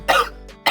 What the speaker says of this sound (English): I'm dying here with this stupid cough that I've had for 3 days